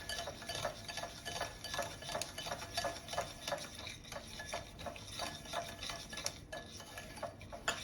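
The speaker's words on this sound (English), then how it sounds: "go in with the cup of sugar. Again, just mix until it clumps up together." Sugar is stirred into malva pudding batter in a bowl, giving a soft, steady scraping and tapping rhythm of a utensil, faint and close, with no voices.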